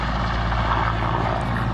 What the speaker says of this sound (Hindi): ये तीसरा हेलीकॉप्टर देखिए टेक ऑफ हो रहा है।